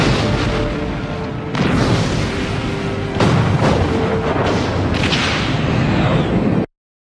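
Star Trek: Deep Space Nine space battle effects: three loud booming torpedo blasts with whooshing sweeps, spaced about one and a half seconds apart over a continuous roaring rumble, ending abruptly.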